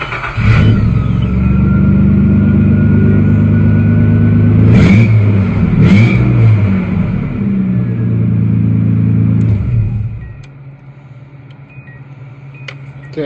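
Nissan engine idling loudly with exhaust leaks, a steady deep rumble with two brief revs, continuous for about ten seconds before cutting to near quiet.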